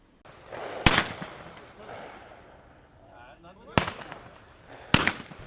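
Shotgun blasts ring out at a Cops and Clays charity clay shooting event at a sportsman's club. Three loud, sharp reports are spaced a few seconds apart outdoors, with a quieter rumble and background murmur between them.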